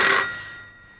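A telephone ringing indoors, heard as a single loud bell-like ring at the start that decays and fades out, with no talk over it.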